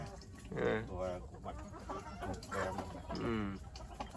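A rooster clucks repeatedly close by, in short bursts over a low background murmur.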